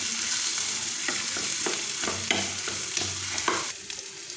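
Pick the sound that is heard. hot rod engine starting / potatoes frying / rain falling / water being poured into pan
potatoes frying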